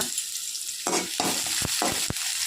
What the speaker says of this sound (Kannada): ಇದಕ್ಕೆ ಈರುಳ್ಳಿ ಸ್ವಲ್ಪ ಫ್ರೈ ಮಾಡುವ